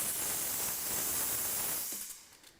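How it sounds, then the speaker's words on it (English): Steam hisses loudly and steadily from the open steam wand of a Sage dual boiler coffee machine, a bright, continuous rush that tapers off as the tap closes. "all we need to do is open the tap and the steam comes out"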